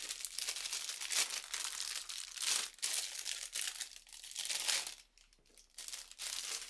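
Crinkly plastic wrapping is crumpled and torn in repeated bursts, with brief pauses between handling sounds, close up and fairly loud.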